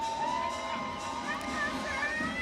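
Stadium crowd at an evening athletics session cheering and whooping after a field-event throw, a dense steady roar with shouts rising over it.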